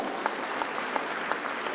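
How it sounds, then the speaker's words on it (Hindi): An audience at a Delhi government event launching a women's welfare scheme gives a brief, steady round of applause, a soft continuous patter with a few sharper claps standing out. "एक बार भाई जोरदार ताली बजा दो।"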